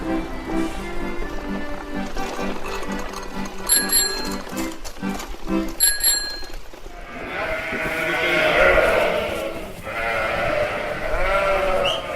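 Dairy ewes bleat on a French sheep and pig farm, several long wavering calls close by, overlapping at times, with a ringing metallic tone in the first half.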